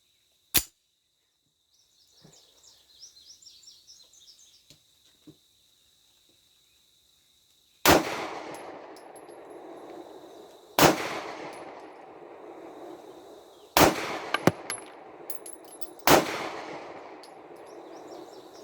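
Four sharp, loud gunshots from a Rock Island 9mm 1911 pistol crack out at a shooting range, spaced a few seconds apart, each with a ringing tail, after an earlier single shot and some quiet handling clatter.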